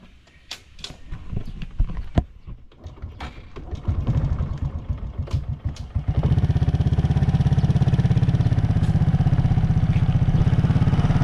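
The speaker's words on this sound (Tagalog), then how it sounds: "Hirap pa naman itong susian itong motor natin" A hard-to-start motorcycle: several clattering, irregular attempts build up, then the engine catches and settles into a loud, steady idle.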